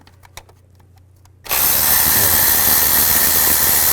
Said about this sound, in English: Now we're going to take the nuts and bolts out for the intake. Use a 10mm socket.